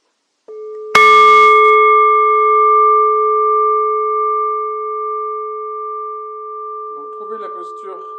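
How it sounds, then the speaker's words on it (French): A gong is struck once, a bright metallic clang that settles into a long, steady ringing tone slowly fading, with a few quiet spoken words near the end as the resonance continues. "symboliquement je vais frapper sur ce gong."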